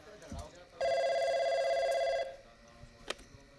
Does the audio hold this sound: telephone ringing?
yes